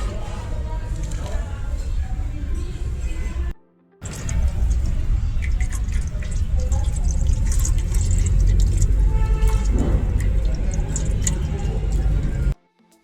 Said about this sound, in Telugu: ఇది డ్రైన్ చేసి ఎంతవరకు కూలెంట్ ఉంది, ఎంతవరకు డీజిల్ ఉంది అనేది మనం ఇందులో చూద్దాం